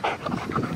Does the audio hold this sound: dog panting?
yes